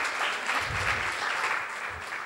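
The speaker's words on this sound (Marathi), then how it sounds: "त्यांच्यासाठी जोरदार टाळ्या" An audience at a Haldi-Kumkum gathering bursts into dense, steady clapping, a close, continuous wash of many hands for the whole moment.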